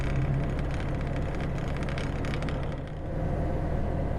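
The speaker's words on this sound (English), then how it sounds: "Now we're really motoring up here." A 1937 Lanchester 11 cruising in top gear at about 35 mph, its engine a steady, continuous drone with road rumble heard from inside the car, loud and unbroken.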